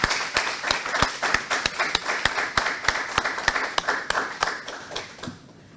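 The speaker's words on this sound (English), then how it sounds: "Can I please get a warm round of applause for Kosmos Energy?" An audience claps at a ceremony where an energy company hands new medical equipment to a hospital in Suriname. The clapping is brisk, even and rhythmic, with no talk, and it thins out and fades at the end.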